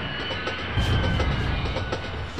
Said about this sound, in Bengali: হঠাৎ ট্রেনটা একটা জোরে ব্রেক করতেই চমকে উঠলাম।